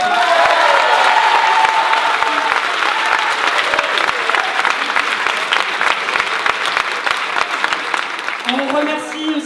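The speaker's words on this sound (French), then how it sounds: "Un grand applaudissement à eux, s'il vous plaît." A large audience applauds steadily and loudly throughout at a Broadway-style stage show in Lille, dense clapping with a few scattered voices mixed in.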